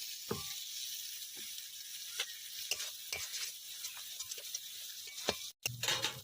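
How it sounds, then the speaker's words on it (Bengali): Fried potatoes go into sizzling spice masala in a pan: a steady hiss of frying, punctuated by sharp spoon scrapes and taps, close by, with a brief cut near the end and no voices. "মশলা কষানো হয়ে গেছে, এবার ভেজে রাখা আলুগুলো দিয়ে দেবো।"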